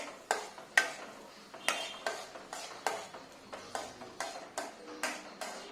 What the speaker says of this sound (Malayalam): ഇനി കുറച്ചും കൂടി അങ്ങ് ഇളക്കി കൊടുത്ത് അതൊന്ന് വെന്ത് വരട്ട്.